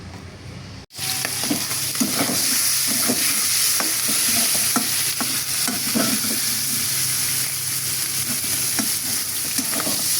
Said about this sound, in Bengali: চিংড়ি মাছগুলোকে লাল করে ভেজে নিলাম